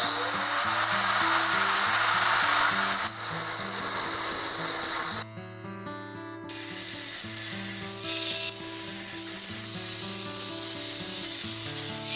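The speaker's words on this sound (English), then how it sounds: "Plus it gives me a chance to try out one of these diamond blades." A diamond blade cuts hardened steel in a metal fabrication job, a loud, steady, tonal whine that breaks off about halfway, then resumes at a lower, grinding level with a brief surge.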